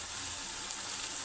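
Turmeric, chilli powder, coriander powder and salt frying in oil for a plain salna curry to go with parotta, a steady close hiss filling the short stretch without pause.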